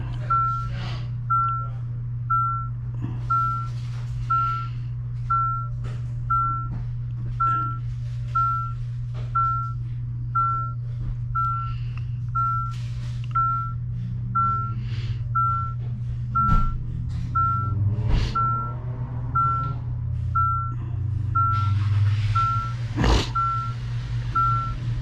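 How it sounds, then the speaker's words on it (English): Steady, evenly spaced reversing beeps from a truck repeat throughout over a low idling engine rumble, with a hiss of air brakes near the end. "I'm sorry about the beeping, but this is what we gotta work with"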